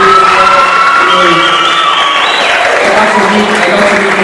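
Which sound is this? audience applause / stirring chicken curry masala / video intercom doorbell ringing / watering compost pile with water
audience applause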